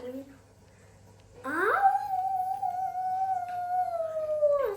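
A person imitates a wolf howl during a family animal-imitation game: after a quiet start, one long, loud, close voiced howl rises sharply, holds a steady pitch for about three seconds, then drops away at the end.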